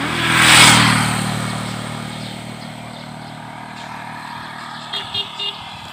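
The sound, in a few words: motorcycle passing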